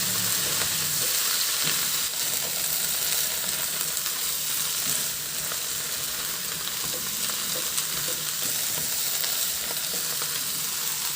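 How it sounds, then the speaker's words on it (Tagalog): Cabbage and mixed vegetables stir-fry in a hot pan with a steady, dense sizzle and faint scraping of the stirring, even and continuous throughout. "Ihalo lang hanggang sa maluto lang din yung repolyo."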